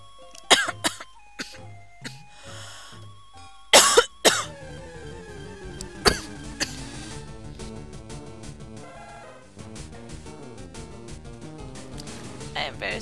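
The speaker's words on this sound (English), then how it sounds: "Very sorry for the coughing fit." Several sharp, loud coughs burst out in a fit during a Pokémon LeafGreen gameplay session, with game music and chiptune effects running underneath and a voice talking between the coughs.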